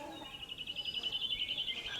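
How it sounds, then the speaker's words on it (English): A quail gives a bright, high chirping call that warbles rapidly across the whole moment, quiet and alone. "Q for quail"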